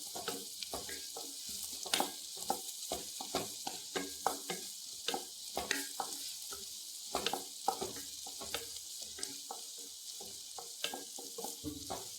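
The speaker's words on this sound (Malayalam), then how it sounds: "കടലപ്പരിപ്പ് ഇതിൻ്റെ കൂടെ നമുക്ക് ഇട്ട് കൊടുക്കാം. ഇതും കൂടെ ഒന്ന് വറുത്തെടുക്കാം." Chana dal roasts in a pan for chutney: a near crackle and sizzle with frequent sharp stirring scrapes and taps in an irregular rhythm, with no talking.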